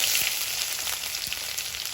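Chopped ginger fries in hot oil in a wok, making a steady, close, dense sizzle that holds evenly with faint crackles throughout.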